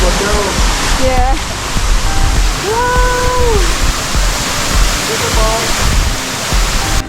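A crowded secret waterfall rushes as a broad, steady roar of falling water, loud and close throughout, with excited voices and a few short exclamations rising over it.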